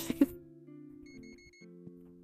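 A barcode scanner beeps at the checkout in Trading Card Shop Simulator. Several short, clean electronic tones come in a steady, evenly spaced row, sitting over a low in-game hum after a brief clatter of handling noise.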